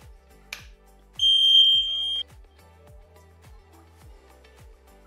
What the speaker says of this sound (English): As you can hear, a continuous audible alarm has been activated.